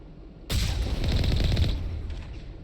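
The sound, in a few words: gunfire in the video game Mass Effect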